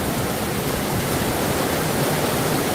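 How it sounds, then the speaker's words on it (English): Steady broadband rush of wind-driven rain sheeting off a roof during a hailstorm, loud and continuous with no pauses, roaring like a waterfall throughout. "Look at the wind blowing the rain off the roof."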